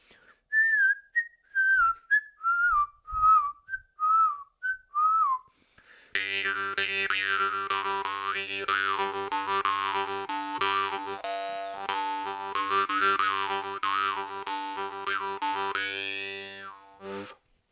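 An Iverson munnharpe jaw harp plays, first in short whistling melodic notes, then as a long sustained buzzing twang with shifting overtones, close and clear.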